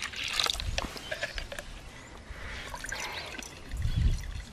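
Water is poured into a funnel at the equator and drains away with trickling, splashing and dripping sounds, close by and moderately quiet, swelling briefly near the end.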